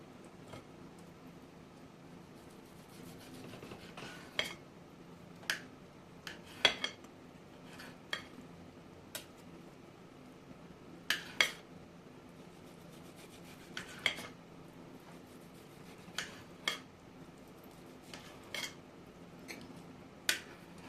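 A knife cutting a grilled steak on a portable Weber charcoal grill, producing sparse, quiet scraping clicks and taps at irregular intervals against a faint background hum.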